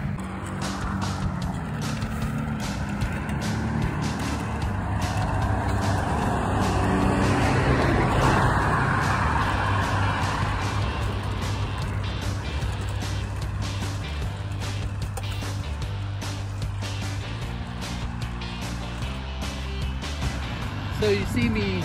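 Twenty-five-year-old New Bright 1/16 scale VW Beetle RC car with its original battery pack whirring along, a steady electric motor drone with small surges and clicks while a person talks throughout.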